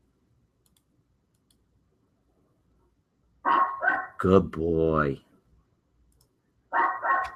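Two sharp dog barks, one loud and close, the other a few seconds later, with a voice speaking briefly between them.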